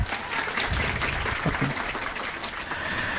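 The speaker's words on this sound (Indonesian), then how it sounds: "Tepuk tangan yang rame" A crowd claps loudly and steadily at a religious sermon gathering at an Islamic boarding school in Probolinggo, a dense sustained wash of hands with no one speaking over it.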